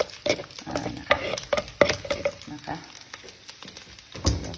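A ladle scrapes and clatters in a pot while eggplant soup is scooped out in a home kitchen, with uneven knocks and soft liquid sloshing close by and some faint background noise.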